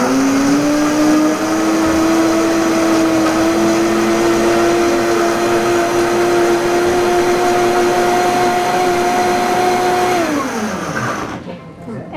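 A blender runs loud and steady for about ten seconds, whizzing raw nuts into a creamy sauce, then winds down and stops near the end.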